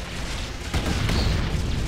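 A heavy in-game blast booms out in a Warhammer 40,000 battle with Death Korps, Space Marines, traitors and Eldar, over ongoing low rumbling noise, loud and close, with a second thud shortly after.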